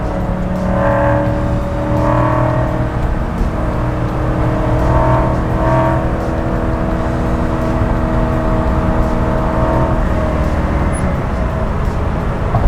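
A 1967 Shelby GT500 engine held at about 5,500 rpm in third gear, a loud, steady roaring drone with harmonics that swell and settle as it pulls through.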